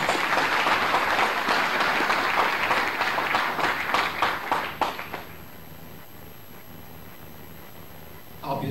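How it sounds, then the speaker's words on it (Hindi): Crowd applause greets the chief minister at a state government event, a loud, dense roar of many hands that thins out and stops after about five seconds, leaving low room noise. "आप सबकी जोरदार तालियों के साथ"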